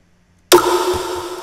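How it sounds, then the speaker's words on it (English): A single Jack Q snare drum sample hits sharply after a stretch of silence, a bright crack with a sustained ringing tail that fades slowly, heard alone and up close. "and we got the Jack Q snare"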